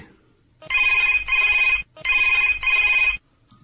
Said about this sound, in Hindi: फोन बाजे के चालू हो गए हवे